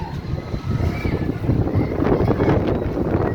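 Cold wind blowing steadily outdoors at a Halloween-season amusement park, a continuous broadband rush buffeting the microphone with low rumbling gusts and no voices.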